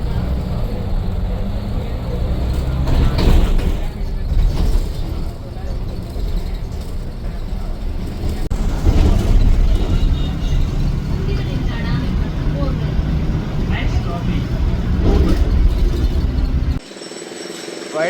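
Route 335 city bus ride heard from inside, with a continuous low engine drone and road rumble throughout and occasional faint voices under the noise.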